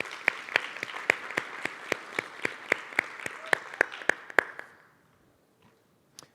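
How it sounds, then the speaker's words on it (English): An audience at a Vanderbilt AI training day applauds the event organizer: a steady, fairly close burst of distinct hand claps that holds for about four and a half seconds, then stops abruptly into near silence. "I'd like to give a round of applause for Miguel because he organized all of this."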